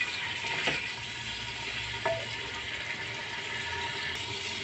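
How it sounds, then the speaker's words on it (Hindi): Chicken frying in oil inside a karahi gives a steady, dense sizzle that holds the whole time, close and even, with a couple of faint clinks from stirring. "चिकन को पहले फ्राई कर लूँगी मैं इसके अंदर"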